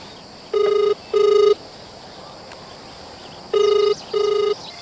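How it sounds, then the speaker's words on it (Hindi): A telephone ringing in two pairs of short electronic trills separated by a pause, loud against a quiet background. "केकर फोन आ ये"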